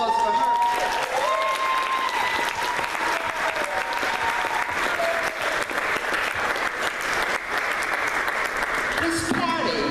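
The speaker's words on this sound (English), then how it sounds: "Let's give a round of applause for her." An audience at a retirement celebration for a captain applauds loudly and continuously, dense clapping with cheers and voices mixed in throughout.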